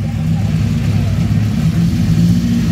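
At the Pebble Beach Concours, a classic Ferrari 750 Monza race car rumbles close by with a loud, steady, deep engine drone.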